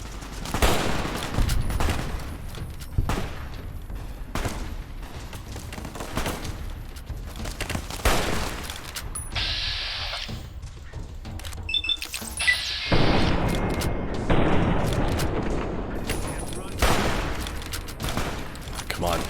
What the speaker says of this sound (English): stop shooting at the traveling merchant